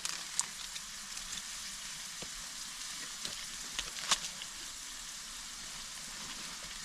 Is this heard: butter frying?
yes